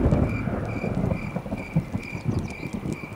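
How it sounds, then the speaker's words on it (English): Thunder rolls during a storm in the video game Call of Juarez, a dense low rumble under rain-like hiss, with faint repeating tones from the game. "Storm's coming in."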